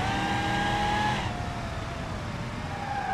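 A Chevrolet Silverado mod in BeamNG.drive runs a race track, its engine droning steadily with a shifting pitch that drops partway through as the truck eases off, then climbs again.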